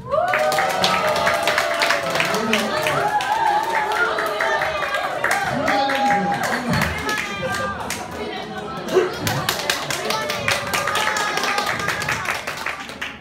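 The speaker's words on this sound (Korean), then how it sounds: "와, 박수 한번" Teenagers in a church youth group clap together in a room, with scattered rhythmic claps mixed under lively speech and excited voices that carry on throughout.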